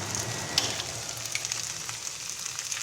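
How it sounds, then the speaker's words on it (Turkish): Ingredients sautéing in a pan for a Turkish barbunya bean dish, a soft, steady sizzle with a few faint crackles and pops, quiet and close, with no talk. "Birkaç dakikada böyle kavuralım."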